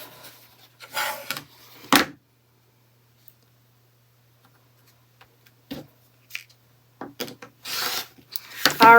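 Rotary cutter slicing quilt fabric along a ruler, with two or three short, close rasping strokes scattered through otherwise quiet stretches.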